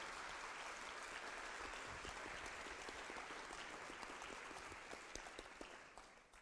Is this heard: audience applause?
yes